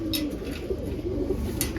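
Pigeons coo steadily in a low, throaty murmur, several birds close by, with a few faint higher chirps above the soft rolling calls.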